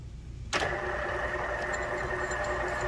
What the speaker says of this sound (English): So I'm core drilling this.